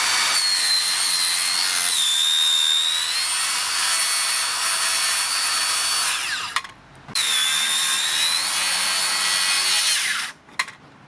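A Makita 40V circular saw rips through timber on a sawhorse with a loud, high whine, pausing briefly before a second long cut, then winding down.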